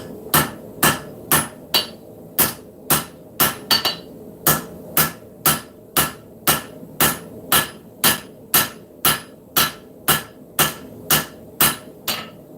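Hammer forging a knife tang in a shop, a long even series of sharp ringing metal blows at a steady pace of about two per second, close and loud, with no talking.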